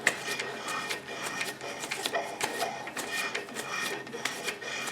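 Slow metal cutting on an old hand-powered lathe, heard as a continuous scraping, rasping chatter with irregular pulses like an interrupted cut, close and steady throughout.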